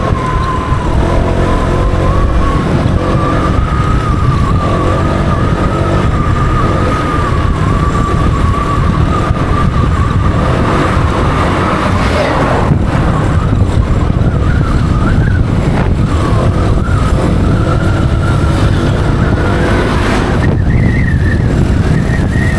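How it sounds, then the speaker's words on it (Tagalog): A truck roars past a motorcycle on a dark night road near Tarlac City, a loud, sustained rush of engine and wind noise over steady road rumble, with tonal whines shifting as it goes by. "Lakas ng hangin ng truck."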